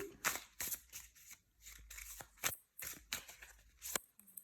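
Tarot cards are laid out one by one, giving a series of crisp, close slapping and sliding snaps separated by short pauses in a quiet room.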